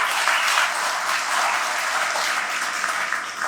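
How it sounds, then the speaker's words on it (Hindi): An audience at an evening kirtan and Hari Katha gathering on a South India tour claps loudly, a dense, steady roar of applause that holds unbroken from start to finish with no voices above it. "इसलिए जोर से ताली बजा दो एक बार"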